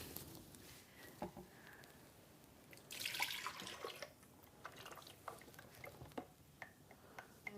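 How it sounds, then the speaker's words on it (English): Oils poured from a container into a blender, a soft liquid trickle and a few faint drips and clinks in a quiet room, with no talking. "you're going to take your oils and you're going to pour them into your blender"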